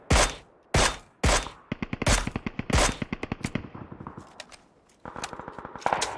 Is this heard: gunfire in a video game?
yes